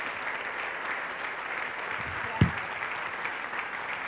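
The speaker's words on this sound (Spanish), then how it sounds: "un fuerte aplauso para él" An audience claps steadily through the whole span, dense and even, with a single sharp thump partway through.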